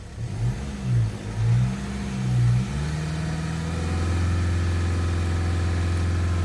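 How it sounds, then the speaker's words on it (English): A Land Rover Discovery Sport engine with a blocked diesel particulate filter revs up in rising and falling swells, then holds a steady, loud high-rpm drone during a mobile DPF cleaning. "So rev her up."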